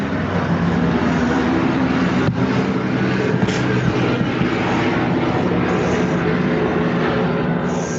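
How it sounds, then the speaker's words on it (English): Helicopter passing over a home woodshop, a steady broadband rotor-and-engine rumble that holds at a constant level for the whole stretch, with no speech over it. "That was a helicopter."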